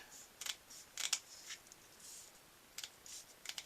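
Tape is snipped with scissors in a quiet room, giving a scatter of small, crisp cutting clicks and rustles at close range while building a scratch-built 1/72 scale Jagdpanther model.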